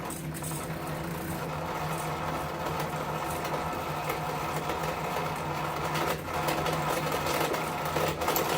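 A sewing machine's motor hums steadily while winding a bobbin, a continuous mechanical whir that stays even and fairly loud throughout with a slight rise near the end.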